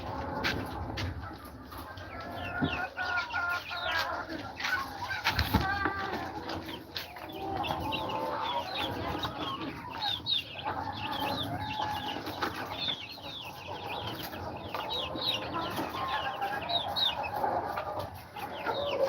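Chickens cluck and squawk steadily on a farm during egg gathering, with overlapping calls from several hens, some near and some farther off, continuing throughout without speech.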